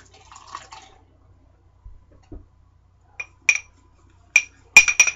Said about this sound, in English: And I'm going to pour this water off.